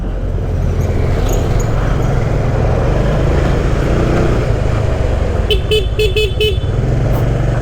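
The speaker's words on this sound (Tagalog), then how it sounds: "Siyempre, stock busina" Four short, quick honks from the stock horn of a Yamaha GP1 motorcycle, close by, over a steady rumbling engine idle.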